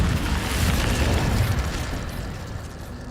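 An Incendio fire spell blasts in Hogwarts Legacy with a loud, sustained boom and roar that stays steady for about three seconds. It then fades slightly toward the end, with no voices over it.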